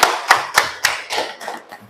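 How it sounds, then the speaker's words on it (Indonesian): A classroom group claps in a patterned rhythm: about seven sharp, fairly loud bursts of hand claps at an even pace, slightly softer toward the end. "Tepuk tangan."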